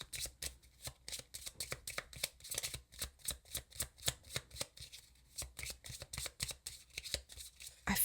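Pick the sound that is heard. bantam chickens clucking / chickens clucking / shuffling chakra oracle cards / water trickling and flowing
shuffling chakra oracle cards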